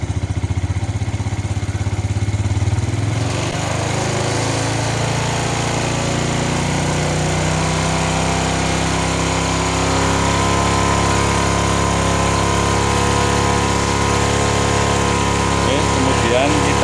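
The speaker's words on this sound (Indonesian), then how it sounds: "kita kencangkan sedikit atau kita naikkan sedikit putaran gasnya" Small engine idling and then revving higher as the throttle is raised, a steady loud mechanical drone whose pitch climbs gradually over the clip, close up and continuous, with no talk over it.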